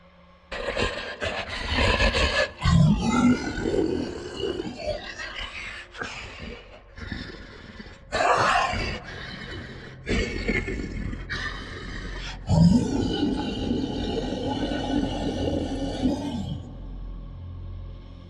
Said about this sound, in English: a deafening roar shattered the night